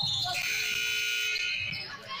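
A loud, sustained electronic buzzer sounds on the floor at a college basketball game between Rio Grande University and Kentucky Christian University, holding steady for about two seconds over crowd noise before fading.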